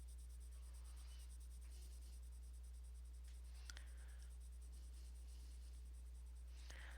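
A pencil shading across paper, a quiet, continuous scratchy rasp of strokes with a few faint clicks over a low electrical hum.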